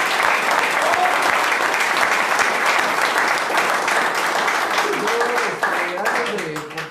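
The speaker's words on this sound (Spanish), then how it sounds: "Un fuerte aplauso" A studio audience or small crowd in a radio broadcast breaks into strong, sustained applause, dense clapping at steady loudness that tapers near the end as a voice begins to speak over it.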